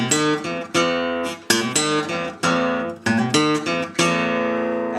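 An acoustic guitar plays a Delta blues lick from a song, plucked notes and open-string strums ringing in a short phrase, close and clear with no talk.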